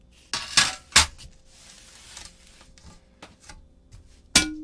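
Optimum Avantique stained glass being scored and snapped, giving a few sharp, bright cracks and clinks spaced across the moment, close and fairly loud, with faint handling noise between them and no speech.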